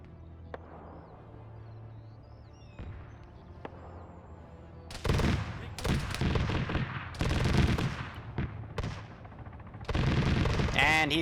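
Video game gunfire during a counterinsurgency operation: a quiet stretch with a few faint distant shots, then loud bursts of close rifle and machine-gun fire in separate volleys.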